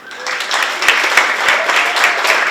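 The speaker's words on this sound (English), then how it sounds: "So give a round of applause for Mark." Audience at a storytelling night in Toronto applauds a man singled out at the back of the room, steady dense clapping close and loud throughout, with a few sharper individual claps standing out.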